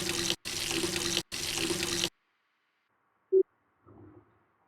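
A kitchen tap is turned on and off three times in quick succession, each burst of running water hissing loudly, followed by silence, a single clink and a faint shuffle.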